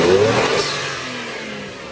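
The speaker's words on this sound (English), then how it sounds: "A little bit of induction sound from the pod filter." Toyota Mark II Turbo with a pod filter, engine revving with induction noise; a brief louder rev at the start that settles into a steady, sustained engine tone, close and fairly loud with no talking.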